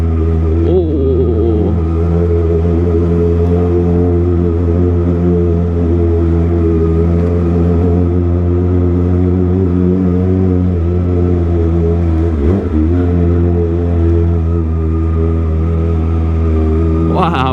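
A Kawasaki ZX25R motorcycle with a loud aftermarket exhaust rumbles steadily at low revs while riding through a narrow alley, a deep, continuous engine drone heard close up throughout.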